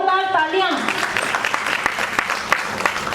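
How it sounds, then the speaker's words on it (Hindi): Loud audience applause at a Bollywood musical night, with dense clapping continuing for several seconds after a brief burst of speech at the start. "जोरदार तालियां"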